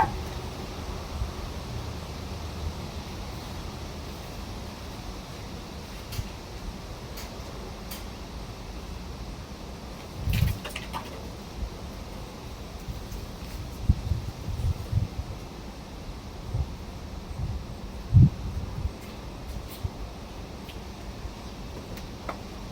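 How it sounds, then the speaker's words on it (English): Gusty wind blowing outdoors, a broad hiss with scattered rustles and buffeting bumps on the microphone that grow stronger and more frequent toward the end, with no talking. "I just didn't realize this wind was going to be this high"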